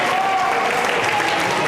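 Loud, dense applause and cheering from a wrestling crowd at a live match, steady and close throughout with no break.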